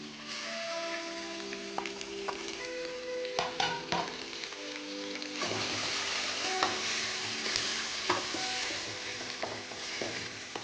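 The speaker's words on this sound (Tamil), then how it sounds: "சிக்கன் நல்லா ரோஸ்ட் ஆகணும்." Chicken strips stir-fry for mie goreng, a steady hiss that grows louder halfway through, with spatula scrapes and clanks against the pan and faint background voices.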